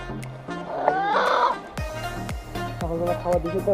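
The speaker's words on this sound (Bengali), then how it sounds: "তো আনছে দৌড়ায় ধরে আনছে মুরগিটাকে" A native chicken caught on a hill trail at Napittachhara clucks and squawks close by in short agitated bursts over a steady outdoor background.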